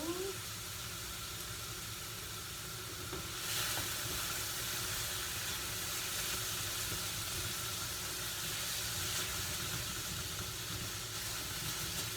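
Sesame turmeric chicken seasoned with lime juice cooks in a pan, giving a soft, continuous sizzle and hiss that holds steady throughout, fairly quiet with no voice over it.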